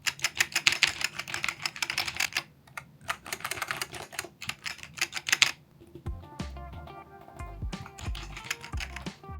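Buttons on a KatsuGear Sando leverless fight-stick controller pressed in rapid clicky flurries, like fast typing, then slower individual taps with soft thuds, all close up.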